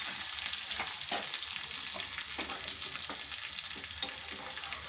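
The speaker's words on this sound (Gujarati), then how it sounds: "2 ટેબલસ્પૂન જેટલી રાઈ થોડી તતડવાની" Mustard seeds crackle and pop in hot oil for a tempering, with dense sizzling and frying noise throughout and a few louder sharp pops standing out.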